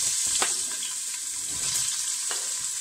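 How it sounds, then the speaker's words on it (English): Onion sizzling in a generous amount of hot oil for pisto, a steady close frying hiss with a few soft crackles and pops throughout. "And then we are going to put the onion first."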